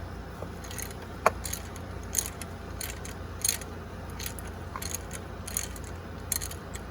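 Ratchet with a 10mm socket loosening the ground wire bolt on the alternator casing of a 2005 Nissan Altima, a series of sharp metallic clicks and ratcheting bursts at close range.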